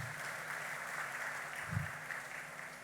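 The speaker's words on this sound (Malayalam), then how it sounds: "ഒരു വലിയ കയ്യടി നിങ്ങളെല്ലാവരും ആ മനുഷ്യന് കൊടുക്കണം." Applause from an audience at a South Indian awards ceremony, a faint, steady wash of clapping heard from a distance, holding even for the whole moment with one soft thump near the middle.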